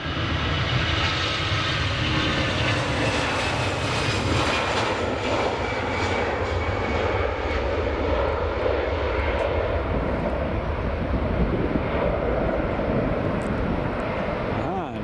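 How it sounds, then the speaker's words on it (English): An EasyJet airliner passes at Edinburgh Airport, its engines a steady broadband roar that holds loud and near for the whole stretch, with people talking over it. "There goes EasyJet."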